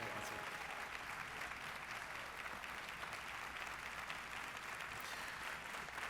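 A church congregation claps to welcome a visiting pastor, a sustained, even patter of many hands that is moderately faint and fills the whole stretch without talk.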